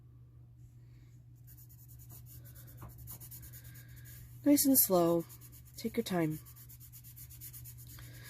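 Soft, continuous rubbing of a pencil's side shading across paper, a faint dry scratch running steadily beneath a calm voice that talks briefly partway through.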